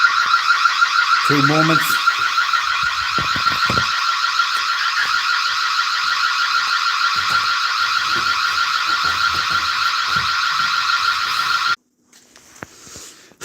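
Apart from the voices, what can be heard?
shop alarm system sounding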